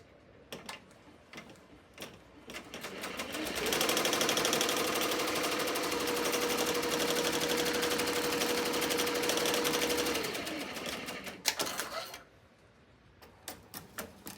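A computerized embroidery machine sews a placement stitch on a patch, its rapid mechanical needle chatter starting after a few quiet taps, running steadily for several seconds close by, then stopping.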